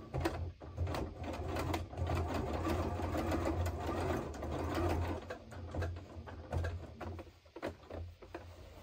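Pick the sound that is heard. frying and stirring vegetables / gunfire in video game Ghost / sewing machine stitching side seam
sewing machine stitching side seam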